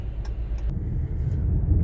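A car drives along Fulford Street in Kalamazoo's Edison neighborhood, heard from inside as a steady low engine and road rumble with a few faint ticks, no talk.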